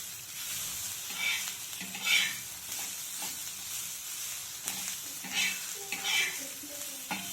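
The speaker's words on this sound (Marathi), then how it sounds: "आता मी बनवते आता मका भाजत आलेली" Corn roasts in a pan with oil and salt, giving a steady close sizzle and hiss, with soft scraping swells as it is stirred and turned. No one speaks.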